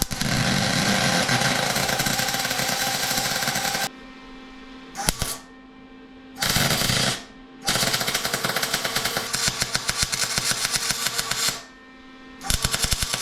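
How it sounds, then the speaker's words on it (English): MIG welding on a VW Rabbit drift build, laying full beads on a 1/4 inch back plate and spacer: loud crackling, buzzing sizzle in long bursts with short quiet pauses between passes, close up and without talk. "we're gonna go ahead and full weld the back plate on both sides, and then weld the spacer"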